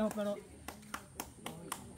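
Several sharp, separate hand claps ring out at a slow, uneven pace during a casual get-together, each one distinct and fairly close, following a brief burst of talk at the start.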